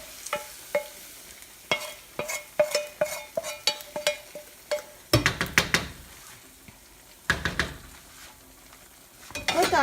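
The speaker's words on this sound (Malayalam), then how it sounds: "ഇതിലേക്ക് നമുക്ക് താളിച്ചത് ചേർത്ത് കൊടുക്കാം." Spluttering tempering poured into Kerala chicken curry, sharp sizzles and pops with repeated metal spoon clinks against the pot as it is stirred, close and busy with short bursts.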